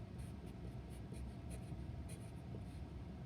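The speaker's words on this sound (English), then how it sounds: "I'm going to write that all out." Pen or pencil writing on paper while working a math problem, soft scratchy strokes in short irregular bursts over a faint steady background hiss.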